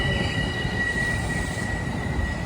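Train number 649 rolls into a station in Harlem, a steady close rumble of rail cars with a high wheel squeal running throughout, no voices.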